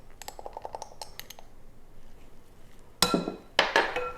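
A utensil clinks against a bowl while egg, vanilla, salt and cinnamon batter is mixed for a berries and cream French toast casserole, with light rapid taps and then louder clattering knocks near the end.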